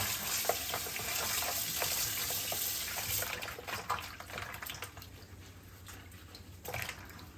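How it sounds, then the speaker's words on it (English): Water splashes and pours steadily at close range over chicken feet being cleaned, a bubbly running stream that slows to scattered drips and trickles toward the end. "I'm going to pour some on my chicken feet with some water"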